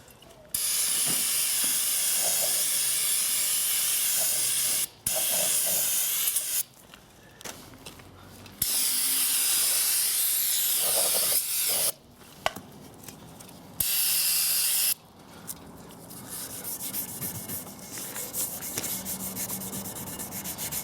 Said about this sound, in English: I'm going to use brake cleaner too.